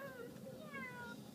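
A voice imitates a cat, giving a drawn-out meow, fairly faint and close.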